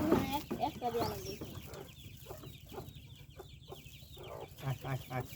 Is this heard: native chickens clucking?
yes